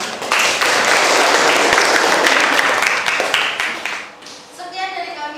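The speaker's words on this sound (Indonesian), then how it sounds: "kita beri tepuk tangan untuk kelompok 1 yang sudah mempresentasikannya" A classroom group applauds the first student group after their presentation, with dense, loud clapping from many hands that holds steady, thins out after about four seconds, and is followed by a brief voice at the end.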